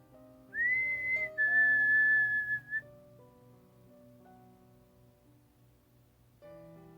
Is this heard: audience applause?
no